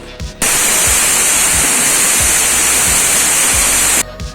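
A pressure cooker of tomato and moong dal soup lets out a loud, steady hissing whistle that holds for several seconds, with short quieter gaps before and after the blast.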